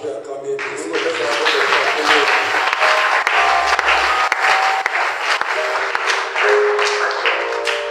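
A church congregation at a revival service claps loudly and steadily, dense applause filling the room while a voice speaks over it.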